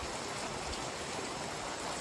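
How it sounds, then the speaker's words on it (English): Steady rain falls outdoors on the Appalachian Trail, a soft continuous hiss with no voices or other sounds over it. "You may be able to hear it's still raining."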